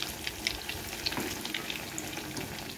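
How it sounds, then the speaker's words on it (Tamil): Sausage bread rolls fry in a pan of oil with a quiet, even bubbling crackle, scattered small pops and light spatters over a soft steady hiss. "இப்போ 2 சைடும் நல்லா நம்மளுக்கு கிறிஸ்பி ஆகிறது வரைக்கும் ஃப்ரை பண்ணி எடுத்துக்கலாம்"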